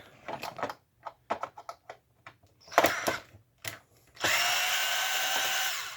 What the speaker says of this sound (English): We're going to unscrew those